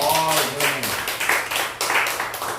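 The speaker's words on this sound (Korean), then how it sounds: "박수 한번 쳐줍시다" A church audience breaks into clapping after a brief voice at the start, a fairly loud, quick rhythmic patter of hands continuing throughout.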